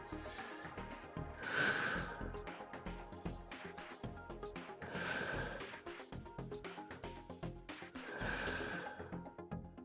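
Three long, deep breaths drawn and released during a power yoga session, each a broad rushing whoosh spaced a few seconds apart, close and fairly loud over steady background music.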